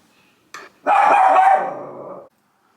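Indoor dog reacting to a package delivery at the door: a short yip followed by one loud, drawn-out bark that fades, close by with no talking.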